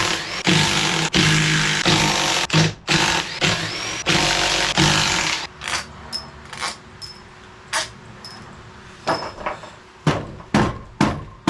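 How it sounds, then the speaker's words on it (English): A 1/2-inch impact wrench rattles sump bolts loose on a 2009 Craftsman YTS 3000 lawn tractor engine. It opens with long, loud hammering bursts, then gives shorter, separate rattling bursts with pauses between them. "So we got our 1/2" impact."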